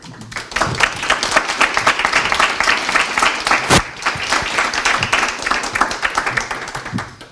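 Audience applause at a roundtable discussion, a dense, sustained round of clapping from a seated crowd that rises quickly, holds steady with a few sharper nearby claps, then tapers off.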